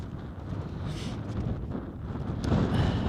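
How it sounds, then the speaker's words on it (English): Strong mountain wind buffets the microphone on the Càrn Mòr Dearg ridge near Ben Nevis, a steady low roar with gusts that swell louder toward the end, no voices. "wind's picked up a little bit"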